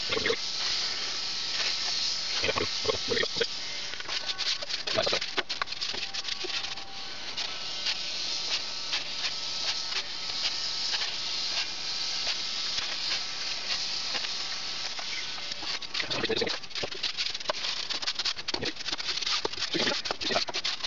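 A Westinghouse Glider machine peels a slab only a few millimeters thick, a continuous soft hissing, pattering scrape with occasional brief louder crackles, steady and moderately faint throughout.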